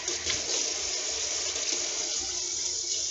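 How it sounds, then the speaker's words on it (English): Hot water runs steadily from a sink tap to wet a Norwex cleaning cloth, a close, even hiss of flowing water with no talking. "turn my sink on. I'm just going to wet the cloth with hot water."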